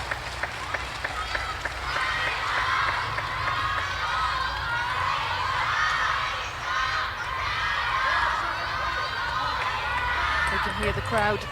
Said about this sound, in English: Hear the crowd cheering the name of Sung Ying Sha